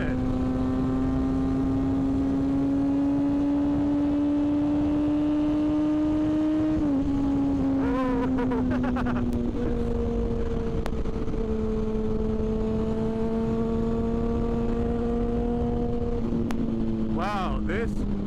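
A 2006 Yamaha FZ6 motorcycle with a 600cc four-cylinder engine drones steadily while riding, its pitch climbing then dropping at a shift and holding level again, loud and close against constant wind rush.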